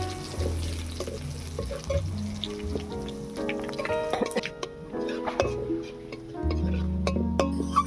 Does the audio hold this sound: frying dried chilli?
yes